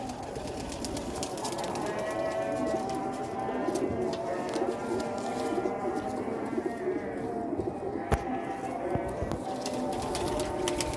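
Quail and pigeon chicks, Sialkoti quails and young pigeons offered for sale, cooing and calling continuously at moderate volume in a busy room, with someone talking over them and a sharp click near the end.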